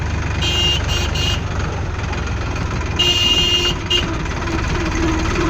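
A vehicle engine idles close by in a steady low rumble, with short high beeping tones sounding in brief bursts over it and no talking.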